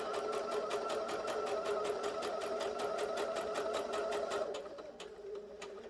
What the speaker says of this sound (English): I will do a back stitch just to make absolutely sure when I go to turn this, the stitches do not come undone.